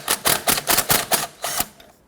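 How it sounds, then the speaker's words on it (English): An impact driver zips a jam nut off the inner tie rod of a 1992-1996 Toyota Camry steering rack, a rapid series of sharp hammering bursts in short groups, loud and close, ending abruptly. "if you have an impact driver, you can go ahead and zip this off."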